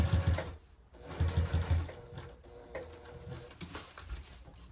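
A sewing machine stitches a fabric tote bag in short rapid bursts with brief stops, its close mechanical whirring fairly quiet and alone.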